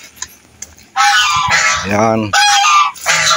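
Geese honk loudly and close at a fish pond farm kept free of smell and flies, in several harsh bursts with chickens nearby; a brief spoken word comes just before the calls.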